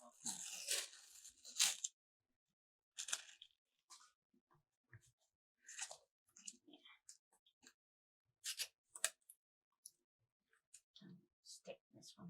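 Foil shield material being ripped by hand, several sharp tearing and crinkling bursts close by, separated by quiet pauses and scattered smaller clicks and rustles.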